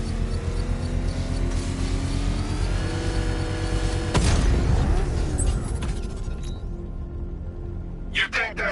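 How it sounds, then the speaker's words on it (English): Controlled explosion set off with a power winch in Batman: Arkham Knight: a sudden loud boom bursts over a droning vehicle engine, then a long rumbling decay fading to quiet with a few scattered clanks; a voice talks during the build-up. "I can use the power winch to trigger a controlled explosion"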